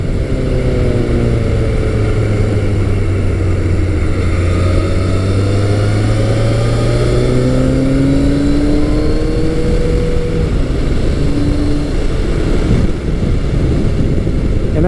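A 1986-1988 Yamaha FJ1200 air-cooled motorcycle engine pulls hard, its loud, steady roar climbing in pitch through a long acceleration, dropping briefly as it shifts gears, then rising again close to the rider.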